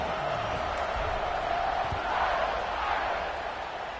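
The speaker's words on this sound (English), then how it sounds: "This crowd is buzzing after that last score." A football stadium crowd keeps up a steady, distant roar after a score, a broad wash of voices that swells slightly midway and carries on throughout.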